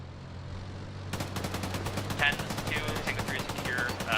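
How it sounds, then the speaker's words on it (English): Gunfire crackles in an Arma video game battle, with rapid loud shots starting suddenly over a low engine hum and voices talking over the firing. "Shots are going out into that building that is green with red trim"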